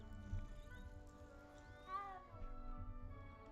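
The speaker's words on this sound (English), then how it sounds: "And there's a cat. Those cats are great." A cat in the video game Hogwarts Legacy gives soft, drawn-out meows over a steady layer of game music and ambience, fairly faint overall.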